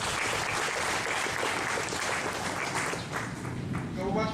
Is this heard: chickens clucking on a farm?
no